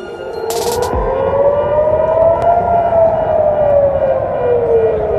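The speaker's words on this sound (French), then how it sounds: "Ça, c'est le genre de sirène qui retentit à nouveau ce vendredi matin en Israël" An air raid warning siren sounds in Israel: a loud, sustained civil defense wail whose pitch slowly rises and falls in one long sweep, with no voices over it.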